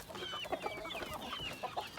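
Hint roosters and chicks being fed eggs cluck and chatter close by in quick, overlapping bursts, with higher chick peeps mixed in and no speech.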